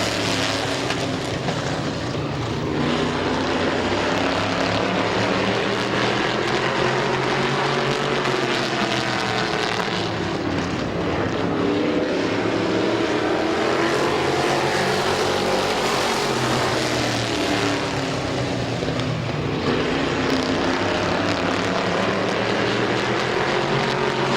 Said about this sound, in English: Green flag 8-lap heat race number 2, Waylon Orr and Passwaters Jr.